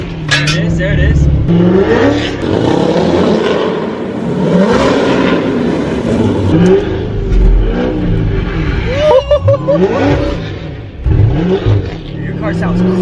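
A Z06 Corvette with long tube headers and aftermarket exhaust runs loud and close, its engine note rising and falling through repeated revs, while voices chatter over it.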